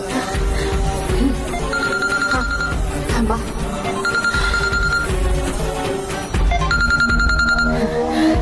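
A telephone rings repeatedly in short electronic bursts over dramatic background music in a Marathi TV serial, with a brief spoken word.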